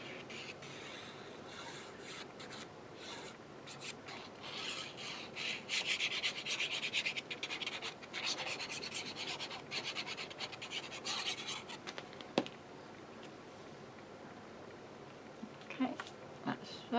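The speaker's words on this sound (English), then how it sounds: "Right, quick whiz around here, give it a good burnish." Paper being burnished on a steampunk-themed mini craft folio, a steady dry rubbing and scraping that swells and quickens through the middle, then eases off with a couple of light taps near the end.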